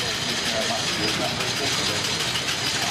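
A large veteran Renault car idles at the Brighton veteran car run, a steady mid-pitched engine drone under outdoor crowd noise and nearby talking.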